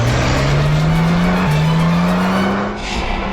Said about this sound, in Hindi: पीछे यूटर्न लो ना और यहाँ दाईं ओर से निकालो गाड़ी, जल्दी